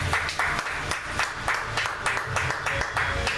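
Church congregation claps together, a dense, rhythmic round of applause with regular beats, loud and close, continuing steadily through the stretch.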